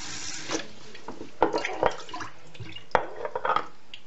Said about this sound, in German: Das heißt, wir machen jetzt hier wieder Wasser rein.